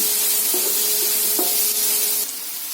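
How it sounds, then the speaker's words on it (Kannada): Onions sizzle steadily in hot oil as they fry until brown for sweet potato upma, a loud, close, continuous hiss with a few soft scraping stirs and no talking. "ಈರುಳ್ಳಿ ಕಂದು ಬಣ್ಣದ ಬರೋವರೆಗೂ ಈರುಳ್ಳಿ ಸ್ವಲ್ಪ ಮಟ್ಟಿಗೆ ಕಂದು ಬಣ್ಣ ಬರೋವರೆಗೂ"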